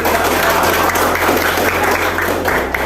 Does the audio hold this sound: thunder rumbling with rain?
no